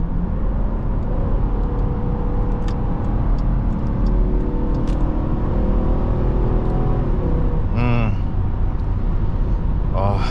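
A 2024 Dodge Durango R/T engine drones and rises in pitch under acceleration, a steady loud cabin hum with sweeping tones, while someone talks over it.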